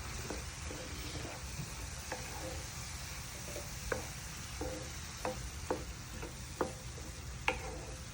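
Chopped green chillies frying with onions in a pan, a steady low sizzle under soft scattered ticks and clinks of stirring, close and fairly quiet, no voices.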